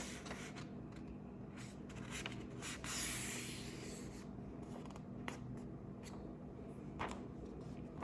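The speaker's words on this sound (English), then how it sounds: "I'm just gonna fold it in half like this" A sheet of paper is folded in half, giving soft rubbing and creasing sounds with a few light taps and scrapes. The sounds are quiet and close, with no talking.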